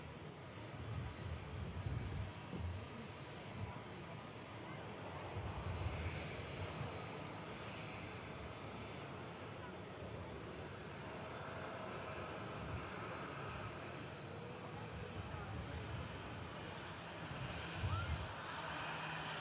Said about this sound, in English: Nice touchdown on the ITA.